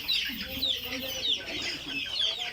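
Egyptian Fayoumi chickens and chicks on a farm at night, with continuous overlapping clucks and high chick peeps close by, a steady busy flock chatter throughout.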